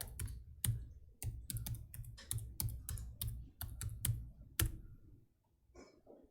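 Typing on an AZERTY computer keyboard, a steady run of crisp, close key clicks in bursts of uneven rhythm, fading to near silence at the end.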